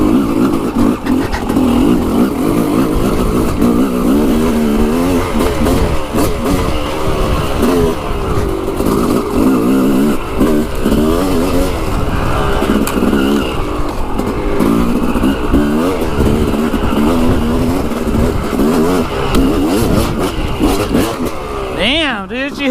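A motorcycle is ridden and revved hard, its engine loud and close throughout with repeated rising and falling revs under wind noise, while a rider talks over it.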